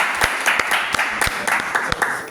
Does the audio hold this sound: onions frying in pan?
no